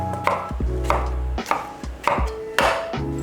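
A knife chops through a long English cucumber on a cutting board, giving about six firm, evenly spaced thuds close to the mic with no talking.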